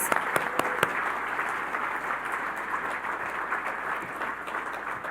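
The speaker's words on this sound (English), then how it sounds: "One more round of applause." Sustained audience applause at an Indigenous business award gala, steady dense clapping filling the room at even strength throughout, with a few sharper nearby claps standing out early on.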